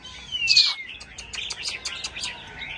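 A caged oriental magpie-robin sings close by, opening with a bright whistled note and then a quick run of sharp, varied chirps and tweets, with no talk over it.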